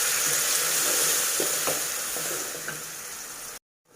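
Ground wet masala hits a hot pan for a cabbage kootu, giving a steady hissing sizzle with a few stirring clinks before the sound cuts off abruptly near the end.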